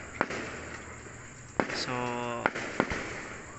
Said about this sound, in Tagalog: Dito po kami sa Santa Catalina at nanonood kami ng fireworks.